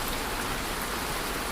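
Steady rain falling, a continuous even hiss of drops with no pauses and no voices, heard close and fairly soft throughout.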